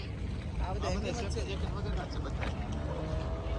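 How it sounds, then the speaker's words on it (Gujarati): A private boat moves on the water of a small Venice-like European canal town, its steady engine and water rush running close and continuous under people talking, with wind buffeting the microphone. "આપણ પ્રાઇવેટ બોટ વાળા લાગે છે બધા"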